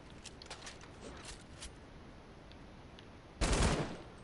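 An LMG fires in Fortnite as a rapid run of light, clicky shots early on, followed later by a louder, dense burst of automatic fire lasting about half a second.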